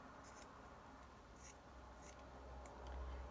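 Scissors cut through paper for a journal in several quiet, crisp snips spaced unevenly, faint and close against a low background hum.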